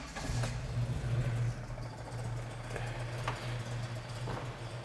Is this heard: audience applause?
no